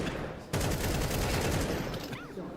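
Rapid rifle fire rattles during a Counter-Strike 2 match, dense bursts of shots packed close together across the whole moment, loud and busy with a sharp onset near the start.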